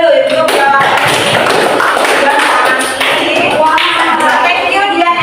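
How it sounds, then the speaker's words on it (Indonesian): Classroom students clap for classmates' correct answers in an English lesson, a loud, close, continuous patter of hands mixed with children's voices talking over it. "Kita kasih tepuk tangan dulu untuk jawaban ini."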